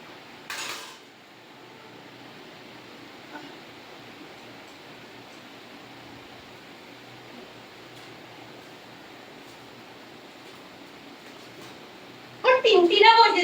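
Rice is served onto plates at home: a sharp clatter of dishes and utensils at the start, then a long quiet hiss, then a burst of scraping and clinking at the end.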